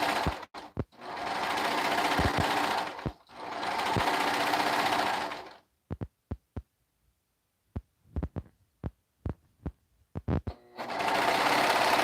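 A serger runs in two long, loud bursts while stitching the edges of leggings, then a run of sharp clicks and taps follows before the machine starts up again.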